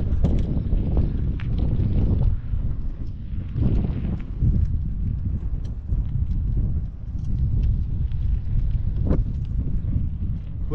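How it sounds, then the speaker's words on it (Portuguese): Strong wind buffets the microphone in Puerto San Julián, a coastal Patagonian town on Argentina's Ruta 3, producing a steady low roar with gusty surges throughout. "O vento aqui é muito forte."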